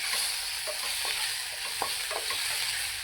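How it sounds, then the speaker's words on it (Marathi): Ginger and garlic frying in hot oil for restaurant-style chilli chicken give a steady, close sizzle, with soft scraping stirs scattered through it. "मस्तपैकी तेलावर फ्राय करून घ्यायचं."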